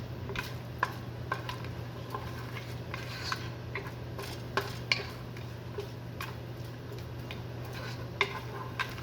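Cinnamon and cloves frying in melted butter in a pan, a faint steady low hum beneath scattered light clicks and scrapes of a utensil against the pan, with no talking.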